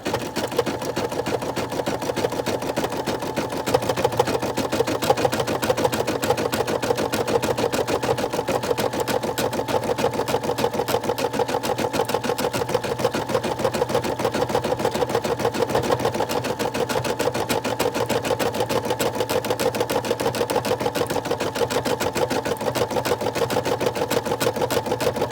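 An embroidery sewing machine stitches a saying onto fabric for a keepsake bear. It runs alone in a fast, even needle rhythm at steady moderate volume from start to finish, with no talking.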